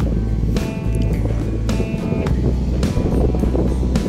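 Steady wind buffets the microphone outdoors at a Manila Bay beach with constant rushing noise, broken by a few sharp knocks and rattles.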